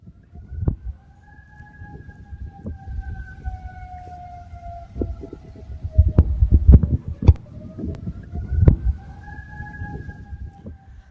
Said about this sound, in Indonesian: Suara sirene meraung di Doha saat rudal Iran menghantam Qatar